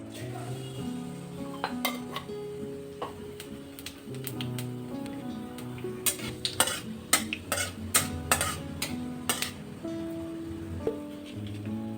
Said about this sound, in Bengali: তেলটা আমার গরম হয়ে গেছে। আমি দিয়ে দেব কিছু কালো জিরে